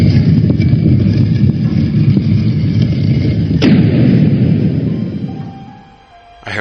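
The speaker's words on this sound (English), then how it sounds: "It was a huge bang. It sounded like some kind of door closing." Heavy booming bang like a door slamming shut, a loud low rumble that holds and then fades, with one sharp crack in the middle.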